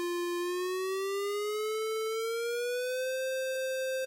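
A Native Instruments Massive synthesizer tone with rich harmonics holds steady, then glides slowly upward in pitch via oscillator glide, loud and sustained without a break until it cuts off.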